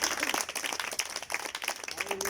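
A church congregation gives a short, fairly quiet round of applause, the claps blending into a soft wash while voices carry over it.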